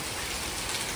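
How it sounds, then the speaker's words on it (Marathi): Heavy rain pours onto a house porch as a dense, unbroken hiss of close, loud drops with no pauses. "एवढा मोठा पाऊस चालू झाला आज"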